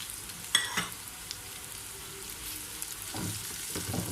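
Crushed red chili, ground cumin, black pepper and curry leaves frying in hot oil, a soft steady sizzle with a few louder spatters and stirring scrapes, close by and without talk.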